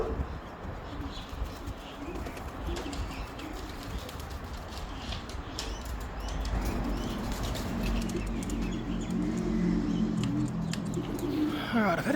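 Racing pigeons returning to the loft after a 256 km race in bad winds, with soft cooing and faint wing flutters over steady outdoor background noise that grows a little fuller in the second half.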